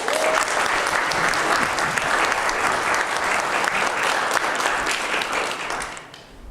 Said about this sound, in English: Let's give a big round of applause to Bart Loeser.